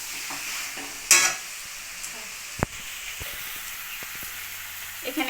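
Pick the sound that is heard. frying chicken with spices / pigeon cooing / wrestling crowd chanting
frying chicken with spices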